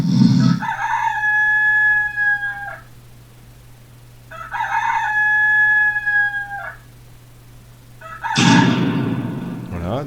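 A rooster crows loudly and close by, twice in long drawn-out calls, over a steady low hum. A third crow begins just as it ends.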